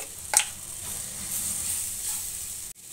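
Ground fennel and coriander powder sauté in hot oil in a pan for a spiced okra dish, with a steady close sizzle, a sharp scrape early on and the frying cutting off abruptly near the end.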